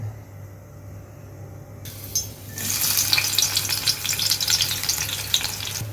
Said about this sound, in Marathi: डायरेक्टली तेलामध्ये कोळंबी फ्राय करून घेऊ